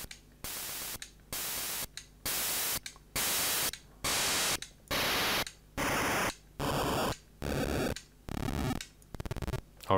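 Game Boy noise-channel sound effects made in FX Hammer. A series of short hissing static bursts repeats in a steady rhythm, each lasting under a second with short gaps between. Later bursts shift into buzzier, more tonal textures, sharp and synthetic.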